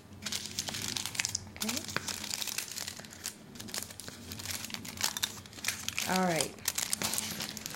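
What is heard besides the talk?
folding foil and cardboard sides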